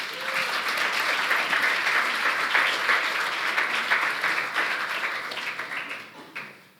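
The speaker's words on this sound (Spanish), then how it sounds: "Dale un aplauso a Dios." A church congregation gives loud, dense applause for several seconds that thins and fades toward the end.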